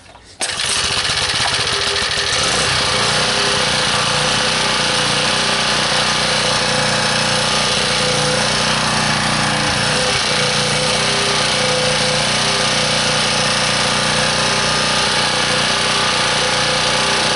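An 1800-watt HF portable generator with about half a tank of fuel runs steadily, giving a loud, continuous engine drone with a rattling buzz that starts abruptly and holds for the whole stretch.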